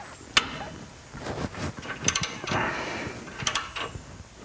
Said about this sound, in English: So I am going to remove these. And there's really just 3 bolts.